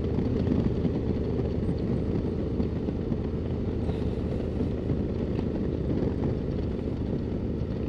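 A 2024 Harley-Davidson Road Glide motorcycle engine drones steadily while riding, with a dense, even low rumble throughout and a slight rise as it goes up a gear.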